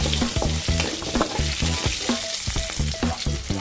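Onions with curry leaves sauté in a pan for an okra kuzhambu, giving a loud, steady sizzle close up with a quick, regular clicking of the stirring utensil and no voices.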